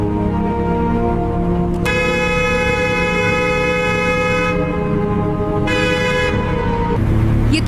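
Loud, sustained car horn blaring over continuous traffic noise in a police chase scene, holding for several seconds, breaking off, then sounding again near the end.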